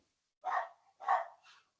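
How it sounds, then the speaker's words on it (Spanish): A small dog barks in three short, fairly close yaps, the last one fainter, with quiet gaps between them. "por ahí hay un perrito ladrando."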